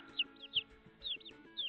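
Baby chicks, growing and getting feathered, chirp in quick, faint high peeps, a few scattered calls in short bursts with soft farmyard rustling underneath.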